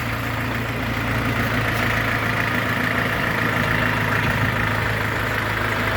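The four-cylinder, water-cooled diesel engine of a Jinma 404 mini tractor idles steadily at close range, a constant low chugging rumble with no change in pace and no voices.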